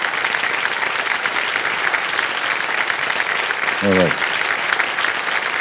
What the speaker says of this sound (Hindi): Thank you, thank you, big hand.